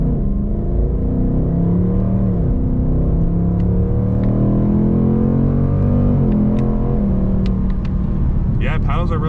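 A 2024 Ford Mustang GT V8 pulls hard through the gears on paddle shifters, engine pitch climbing and dropping at each shift, heard loud from inside the cabin.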